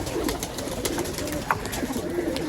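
Pigeons cooing softly in a loft or rooftop setting, low murmuring calls repeating through a steady background hum, with a brief wing flap or scuffle midway.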